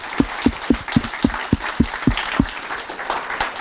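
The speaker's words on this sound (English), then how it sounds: "A big round of applause for Sash." A small audience at a corporate feedback session claps for a presenter, with a handful of distinct loud claps in a steady rhythm at first, then thinning into scattered, softer clapping.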